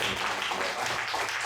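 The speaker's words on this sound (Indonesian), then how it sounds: "sekali lagi boleh tepuk tangan buat Om Salih" An audience at a talk gives a round of applause: a dense, even stream of many hands clapping that holds at a constant level for its whole length.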